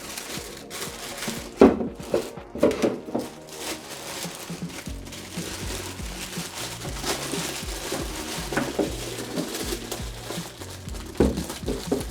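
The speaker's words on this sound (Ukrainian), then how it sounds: "знімаємо поліетиленовий пакет" A polyethylene bag is pulled off a Saturn ST FP8088 budget juicer, giving irregular crinkling and rustling with a few sharper crackles near the start, close and moderately loud, with no talking.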